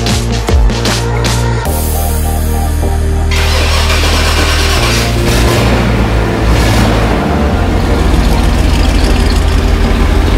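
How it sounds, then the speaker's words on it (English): A big car engine turns over and settles into a deep, lumpy idle around 350 RPM, a steady low rumble that stays loud and close throughout. "it idles about 350 RPM"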